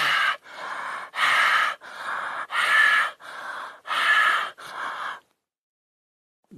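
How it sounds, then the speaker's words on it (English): Forceful breathing exercise from the throat, with powerful abdominal inhales and exhales: eight loud, rhythmic breathy rushes about half a second each, close and alone, followed by silence. "Breathe in and out powerfully, moving the abdomen muscles but without jerking the abdomen."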